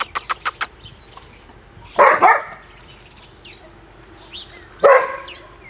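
A dog barks in two separate bursts, a few seconds apart, fairly close and loud, after a quick series of short taps.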